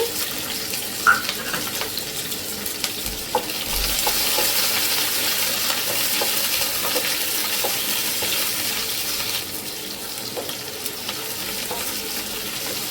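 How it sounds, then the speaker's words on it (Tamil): Small shallots sizzle and crackle in hot oil for mutton sukka, a loud continuous frying hiss with occasional stirring clicks, close up and without speech. "வெங்காயம் நல்லா வதக்கிக்கோங்க."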